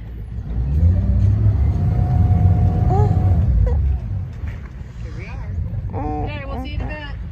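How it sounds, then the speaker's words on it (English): A boat's motor starts and runs after launch into the water, a steady mid-pitched engine drone that eases off partway, while people talk and exclaim over it. "There's the engine. That's not loud, that's actually peaceful."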